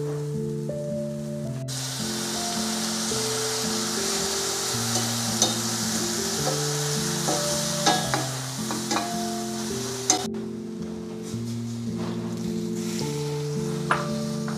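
Oysters sizzle and crackle in a pan as soy sauce goes in for oyster adobo, a steady loud frying hiss with clinks of a utensil stirring through it, no talk.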